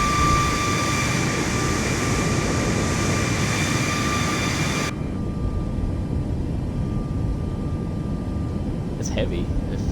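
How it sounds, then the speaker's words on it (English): Aircraft engine in Microsoft Flight Simulator 2024 on Xbox, a loud steady drone with tonal whine that shifts partway through, with someone talking briefly over it. "God, I love this engine sound."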